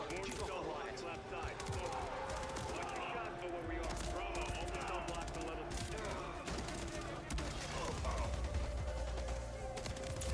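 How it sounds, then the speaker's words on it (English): Gunfire in a Call of Duty video game as guards on different levels are shot, a steady dense barrage of shots over loud, continuous game ambience with a voice talking over it. "here I just need to make sure I shoot every guard on the different levels."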